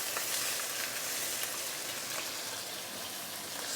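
A fish fries in a pan just after being turned, with a loud, dense, continuous sizzle and crackle close up, alone with no voices.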